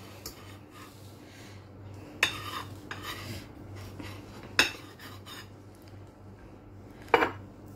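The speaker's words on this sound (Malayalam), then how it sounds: "ഇതേപോലത്തെ സ്റ്റീലിൻ്റെ ഒരു പാത്രം നിങ്ങളുടെ കയ്യിലുണ്ടെങ്കിൽ അത് വെച്ചിട്ട് നമുക്ക് ഈ റൗണ്ട് ഷേപ്പിൽ കട്ട് ചെയ്തെടുക്കാവുന്നേ ഉള്ളൂ" A steel glass is pressed onto slices of bread to cut round shapes, giving three sharp metallic clinks spaced a few seconds apart over a quiet kitchen background.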